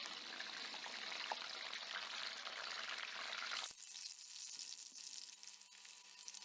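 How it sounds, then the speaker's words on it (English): Banana slices deep frying in hot coconut oil over a medium flame give a loud, steady, close sizzle that briefly dips partway through, then continues with no voices. "And now deep fry in a hot coconut oil. Stir occasionally and fry on medium flame."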